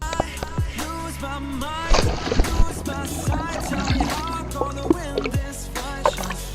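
A small boat motors across water with steady engine drone, wind buffeting a GitUp Git2 Pro action camera microphone, and scattered whistles and voices calling over the top.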